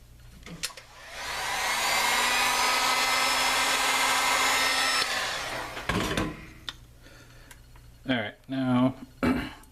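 A heat gun used during a dual-18650 DNA 200 build, blowing a steady, close whooshing hiss of air for several seconds before cutting off, followed by clicks and handling noises, then a person speaking at the end.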